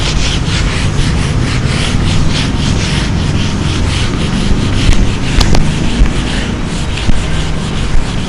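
A board is rubbed clean in a classroom, giving steady, continuous scrubbing and wiping strokes, fairly loud and close, with a few sharper scrapes near the end and no talking.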